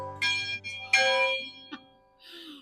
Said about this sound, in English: it's a rite of passage to ring the bell here at the chapel